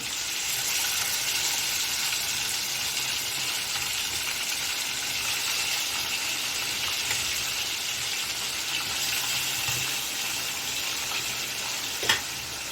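Chicken frying in a pan over a high gas flame gives a loud, steady sizzle that runs the whole time with no talking, and a single faint clink comes near the end.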